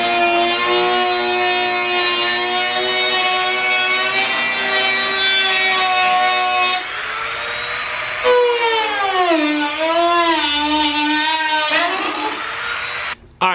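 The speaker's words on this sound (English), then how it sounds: "So I'm gonna get the Dremel, cut this all out, and then try to put this bumper on." A Dremel rotary tool cuts out the bumper area on a Lexus SC300/SC400, a loud high-pitched whine that dips and rises as it bites into the material, close up.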